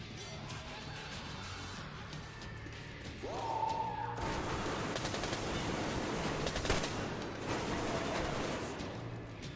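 Enemy gunfire in Metro Exodus: sparse shots early, then from about four seconds a dense, loud burst of rapid automatic fire with sharp cracks and impacts, continuing in clustered volleys.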